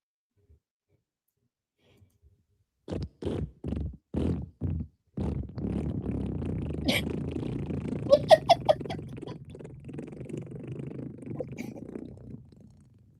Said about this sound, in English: I downloaded all those fart audios from YouTube Studio.